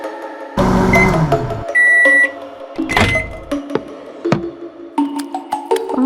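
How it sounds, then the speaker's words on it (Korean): A household microwave oven warms baby food, giving a low humming run followed by tonal electronic beeps and clicks of the door and buttons, close and fairly loud. "전자레인지에 이유식 데운 거야"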